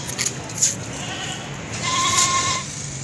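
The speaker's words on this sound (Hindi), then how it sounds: "बहुत ही अच्छी ज़बरदस्त बकरी है" A goat bleats twice, short wavering calls close by, as it is being loaded onto a vehicle amid a steady outdoor background hum.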